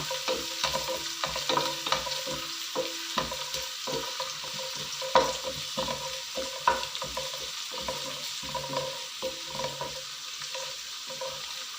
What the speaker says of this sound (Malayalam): വെളുത്തുള്ളി ഇട്ട് ഇഞ്ചി ഇളക്കി കൊടുക്കണം.